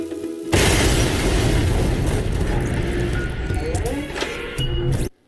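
A loud cartoon explosion blast erupts suddenly, roaring and crackling as a sustained wall of noise for several seconds before cutting off abruptly.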